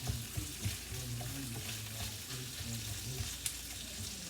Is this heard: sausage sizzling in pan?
yes